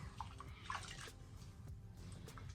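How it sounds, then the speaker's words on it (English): A silicone reborn doll is washed under running water, with steady splashing and trickling plus a few drips and small sloshes close by, without speech. "this is the fun part of having a silicone doll, is to be able to wash them up"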